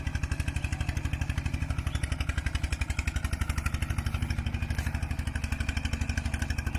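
A Thai-made articulated tractor works through boggy mud in Udon Thani, its engine chugging in a fast, steady putter throughout, loud and close.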